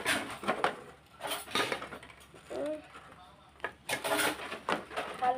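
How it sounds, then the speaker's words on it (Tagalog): A spoon stirs food in a cooking pot with scraping, clinking strokes in irregular bursts, near and fairly quiet, with a voice talking between them. "Haluin lang natin."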